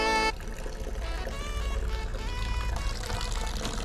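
Coolant pours and trickles out of a hose on a Volvo S40 T5 engine, a steady close wash of liquid running for several seconds.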